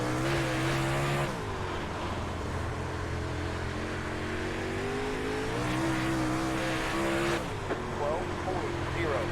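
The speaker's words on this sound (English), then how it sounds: "let's give it a little spin here and let's see what it's like in the super late model" A super late model race car in iRacing at I-55 Raceway drones along at steady high revs, with the engine note dipping and rising through corners while someone talks over it.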